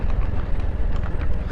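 Horse hooves clip-clopping on a trail near Taytay Falls in Majayjay, Laguna, a close, steady run of rapid hoof strikes with no talking.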